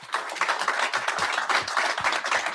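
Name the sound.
crowd cheering and applauding at NHL draft announcement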